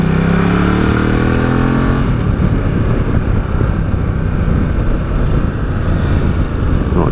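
A 2017 Ducati Multistrada 950 motorcycle engine climbs in pitch as it accelerates hard for about two seconds, then gives way to a loud, steady roar of riding and wind noise.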